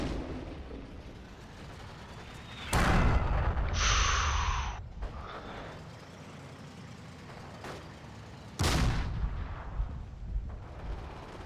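Two grenade blasts in the World War II game Forgotten Hope 2, set at Tobruk, each a sharp loud burst with a rumbling tail, a few seconds apart over steady battlefield ambience and a brief hiss between them.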